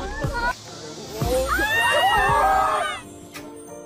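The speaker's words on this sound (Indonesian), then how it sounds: "hal tersebut membuat siswa lain teriak kegirangan" School students shriek and squeal with excitement in a loud burst of overlapping high-pitched voices, preceded by a few shorter shouts and trailing off at the end.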